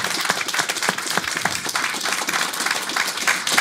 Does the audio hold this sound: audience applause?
yes